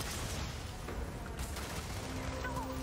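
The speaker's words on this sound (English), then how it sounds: "That explosion is massive." Explosions and gunfire in the video game Starfield form a dense, continuous rumbling barrage of shots and blasts at moderate distance, steady in level across a few seconds, with speech mixed underneath.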